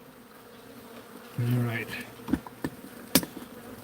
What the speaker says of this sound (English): So far, just bees. Bees crawling on the wood.